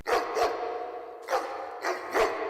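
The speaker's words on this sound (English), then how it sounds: "and then dogs barking" A dog barking sound effect in a beat, separate bursts, two quick barks, a pause, then three more, fairly close with a faint echo trailing after each.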